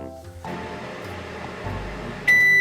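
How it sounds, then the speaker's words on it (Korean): A microwave oven heating a moldy strawberry hums steadily at a moderate level for about two seconds, then a loud sustained electronic beep sounds at the end. "마지막으로 이곰팡이전자레인지에다 1분 정도 돌려보도록 하겠습니다"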